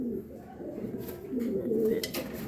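Racing pigeons coo softly up close in a few short, low, throaty phrases, with faint background noise.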